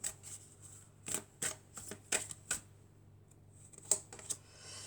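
Tarot cards are shuffled by hand in a run of quick, crisp riffling bursts with short pauses between them, close and fairly quiet, with no talking.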